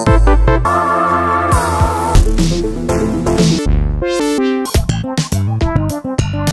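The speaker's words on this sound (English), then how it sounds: "That's the sound of the JDXI, new set of sound banks from Ultimate Patches." Demo of Ultimate Patches sound banks on a Roland JD-Xi synthesizer: layered, loud synth tones and chords with punchy drum hits, shifting patches and a sustained lead line, no talking.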